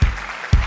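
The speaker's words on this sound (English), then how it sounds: "gentle applause" Gentle applause sound effect triggered from Loopy Pro during a live music setup, two soft bursts of clapping in under a second, thin and synthetic-sounding with a low thump at each onset.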